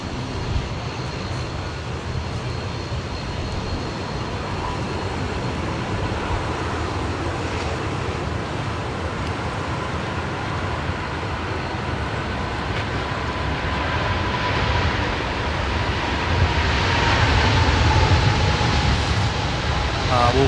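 An airliner powers up and rolls for takeoff at Sydney Airport, a broad distant roar that builds steadily louder toward the end, with faint voices in the background.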